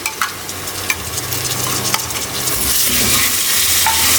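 Garlic, ginger and green chili paste sizzles and spits in a hot pan while a utensil scrapes and stirs, the frying hiss growing brighter and louder toward the end.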